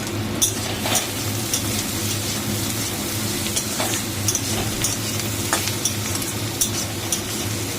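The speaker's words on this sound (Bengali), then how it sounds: "আর এখানে কালো জিরে কাঁচা লঙ্কা ফোড়ন দিয়ে এই যে পেঁয়াজটা ভাজছি" Sliced onion sizzles steadily in hot oil with black cumin seeds and green chili tempering, a constant close frying hiss broken by repeated scrapes and stirs of a spoon against the pan.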